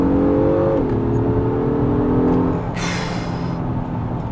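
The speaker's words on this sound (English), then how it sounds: "I like the way that this motor sounds in Sport Plus." Engine of a 2025 Acura MDX Type S pulls hard in Sport Plus mode, a loud in-cabin drone that drops slightly in pitch as it shifts, then settles under road noise with a brief high whine.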